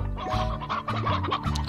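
Penhens, the cartoon hens of the video game Slime Rancher, cluck in a busy overlapping flock, short repeated clucks stacked over steady game music.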